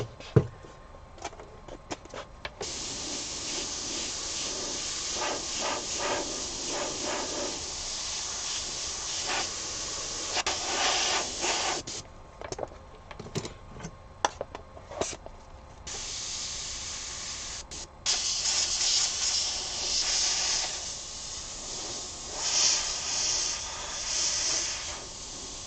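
An airbrush sprays paint onto porous and non-porous surfaces in bursts of airy hiss, starting and stopping repeatedly with short pauses between passes, close up and without talk.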